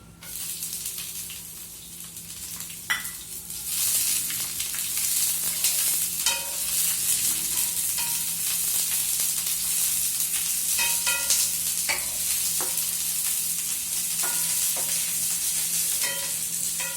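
Onion being stir-fried for Chinese noodles in a hot pan, loud continuous sizzle with repeated spatula scrapes and clicks throughout, close and steady.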